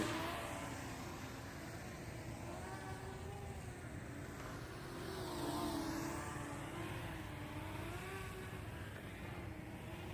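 Xinlin X181 RC aircraft in flight, a steady electric motor whine with a faint pitch wobble, swelling slightly louder midway as it passes closer, continuous for about ten seconds with no voices.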